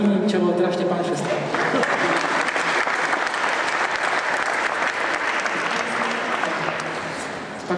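Audience applause at a youth schola concert, honoring the first cellist: dense, steady clapping from a full hall that fills the whole stretch, with some voices mixed in at the start and a slight fade at the end.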